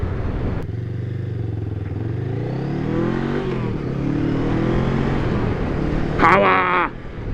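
A Honda Rebel 500 motorcycle accelerating, its engine note rising through several gears with brief dips at each shift, loud and close, with a clattering scrape near the end.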